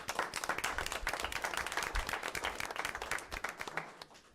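Audience applause at a school committee meeting: steady, dense clapping from a room of people, moderately loud and continuous throughout.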